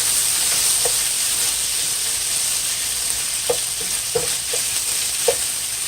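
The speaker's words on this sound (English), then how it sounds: "so you saute it right quick, you know." Tofu sautés in a hot pan for a saltfish and tofu rundown, giving a steady close sizzling hiss with a few soft stirring clicks and taps scattered through it.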